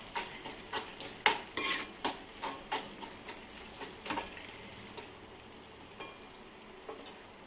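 Spoon repeatedly scraping and clinking through a pan of village-style curry as tomatoes are stirred in, a steady rhythm of close, sharp strokes over a low background sizzle.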